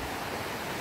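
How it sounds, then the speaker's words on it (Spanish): River water rushing after a storm, a dense, steady broadband roar that stays loud and even throughout, close by and with no voices. "Miren el ruido del río"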